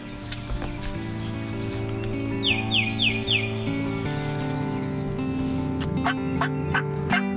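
Several wild turkeys gobble outdoors during turkey season, their rattling calls bursting in short runs of three or four at middle distance over steady background birdsong and a low hum.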